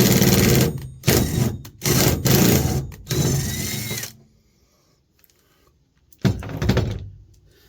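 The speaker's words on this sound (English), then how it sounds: "Maybe I could zip that thing right in there and see how quick we can get that on." Small impact driver running tie-down bolts into a Nissan truck bed, several loud rattling bursts of about a second each with brief gaps, then a quiet pause before one more burst.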